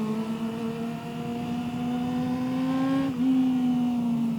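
A 250cc inline-four motorcycle engine revving toward 20,000 RPM holds a smooth, screaming whine that climbs slightly, with a brief dip near the end. No talking.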